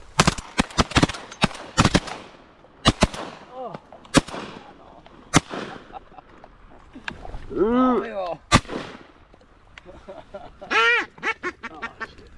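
Repeated shotgun blasts while hunting teal ducks over decoys in Nicaragua, loud and sharp in quick clusters, with ducks quacking near the middle and toward the end.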